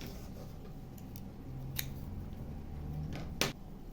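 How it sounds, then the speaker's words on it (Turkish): Scissors snip through paper yarn while a crocheted paper-yarn bag is being finished, two sharp, brief cuts standing out near and clear against a quiet background. "Artık yeteri kadar ip bırakıp kesiyorum."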